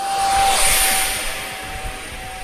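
A 3D printed MiG-41 PAK DP prototype model interceptor with a 50mm electric ducted fan flies past on its maiden flight, a loud steady high-pitched whine that swells and slowly fades, with no talking.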